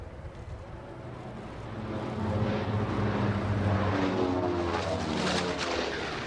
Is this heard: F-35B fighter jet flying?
yes